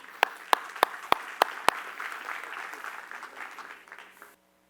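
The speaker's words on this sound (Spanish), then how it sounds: "recibámoslo con un muy fuerte aplauso" Sustained applause from a conference audience welcoming a speaker, with a few sharp, loud claps standing out near the front before the clapping thins and stops abruptly.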